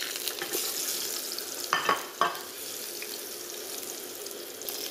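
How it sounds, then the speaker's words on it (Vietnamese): Breadfruit pieces frying in a pan make a steady, bright sizzle throughout, with a couple of louder clattering stirs near the middle and no talking. "giờ mình cho vào mình chiên sơ."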